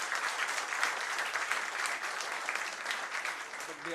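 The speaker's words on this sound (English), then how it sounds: "Let us applaud them in appreciation for all their dedicated efforts." A general meeting audience gives a sustained round of applause for an outgoing president's team, the many hands clapping evenly, moderately loud and continuous without speech.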